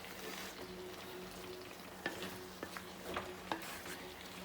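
Vegetables for Kerala aviyal sizzle softly in a pan as a little water is added, a quiet continuous fry with a few small clicks and taps of a utensil, no talking.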